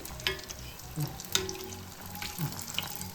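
Neyyappam batter sizzles in hot oil with light scraping and splashing, a few sharp clinks of a utensil against the pan, fairly close.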